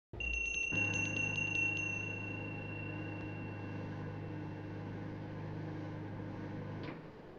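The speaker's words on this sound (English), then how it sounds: "Why did he ring a bell" A bell rings in a television drama, striking sharply at the start and leaving a steady ringing tone that holds for several seconds before cutting off.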